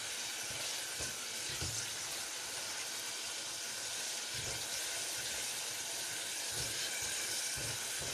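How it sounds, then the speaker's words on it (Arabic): Onion and tomato sizzle in a hot pan, a steady close frying hiss with occasional low stirring bumps throughout. "انا حطيت الطماطم البصله اهو، وهبتدي اشوحها"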